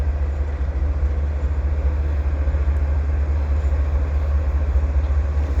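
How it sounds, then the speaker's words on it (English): A westbound CP freight train rolls past in winter, a loud continuous low rumble of wheels and wagons with steady clatter, holding even intensity throughout. "here comes the CP train heading west"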